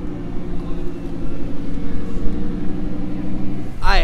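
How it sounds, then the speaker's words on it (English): An Audi R8 sports car with straight-piped exhaust rolls up close by, its loud, steady low rumble running throughout under people talking, rising slightly at the end. "here's the R8 that is pulling up"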